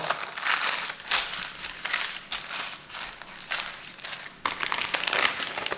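Parchment paper folded over raw chicken skins and thighs in a kitchen, giving repeated close crinkling and crumpling bursts in an uneven rhythm, with no talking.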